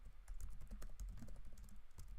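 Rapid, steady keystrokes on a computer keyboard as networking commands are entered, close and clear with no talking over them.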